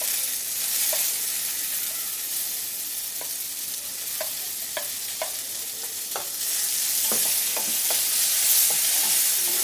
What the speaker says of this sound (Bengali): বরবটিটাকেও এই পেঁয়াজ রসুনের সাথে 2-3 মিনিট নেড়ে নেব